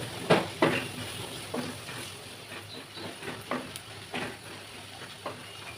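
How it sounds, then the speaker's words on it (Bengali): Chopped onions sizzle in a pan with cardamom and cinnamon as a spoon stirs them, a soft steady frying hiss broken by scraping, clattering strokes at irregular intervals. "এবার পেঁয়াজ কুচিগুলো দিয়ে কিছুক্ষণ নেড়ে বাদামি রঙের করে ভেজে নেব।"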